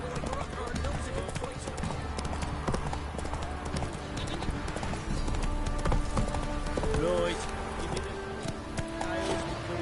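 A horse gallops in the video game The Witcher 3, its hooves clip-clopping in a steady, rapid rhythm, close and prominent over a dense bed of game ambience and music.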